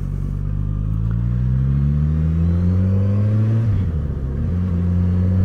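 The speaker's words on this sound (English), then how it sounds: "Okay, clutch out, no throttle, and the bike just goes." A Suzuki GSX-S 1000 motorcycle from 2019 pulling away with the clutch out and no throttle: a steady, loud, close engine drone that rises gently in pitch, dips briefly partway through, then settles again.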